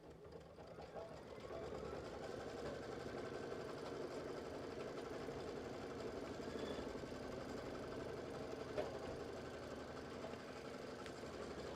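A Kimberbell embroidery machine stitches steadily, running a tack-down pass twice around fabric placed over batting, with a continuous close mechanical whir and rapid needle rhythm throughout.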